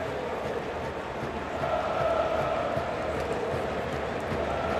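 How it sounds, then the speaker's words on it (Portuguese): Fluminense supporters singing in a football stadium, a dense, distant crowd roar that swells slightly and holds steady, broad and indistinct with no clear individual voices. "a torcida do Fluminense tá cantando, ó"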